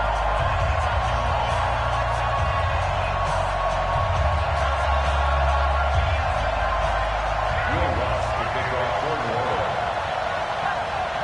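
A dense stadium crowd roars steadily in an EA Sports NFL video game, a Green Bay Packers versus New Orleans Saints matchup. The cheering rumbles loud and continuous throughout, with dull thuds and commentary-like voices mixed in.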